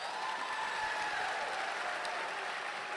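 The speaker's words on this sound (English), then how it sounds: "Give yourselves a round of applause." A graduation audience in a hall applauds steadily for the seniors, dense continuous clapping heard from some distance, moderately quiet and without speech.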